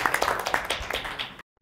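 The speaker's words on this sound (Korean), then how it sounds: "박수 치고" A small group claps at a meeting on AI and data-based credit scoring for small businesses, the claps quick and fairly close, loosely rhythmic, ending abruptly into silence after about a second and a half.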